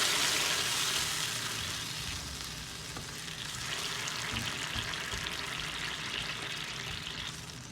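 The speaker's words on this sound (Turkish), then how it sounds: "Şöyle karıştırıyorum." Hünkar beğendi mixture with tomato juice just poured in is stirred in a pot, hissing and sizzling steadily over the heat with faint scraping, continuous and close with no talk.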